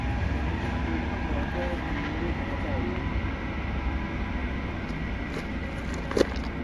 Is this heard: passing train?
yes